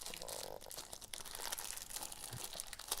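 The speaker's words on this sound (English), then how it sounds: "that is ridiculous to try and get into that plastic bag" A plastic bag wrapped around a Twosun TS16 G10 pocket knife is torn open by hand, with close, continuous crinkling and crunching and sharp bursts of ripping plastic throughout.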